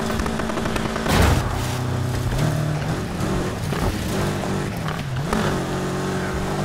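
Engine revving and tire screech of an off-road car drifting in the racing game Need for Speed Heat, with loud, continuous engine tones that rise and fall and several sharp bursts.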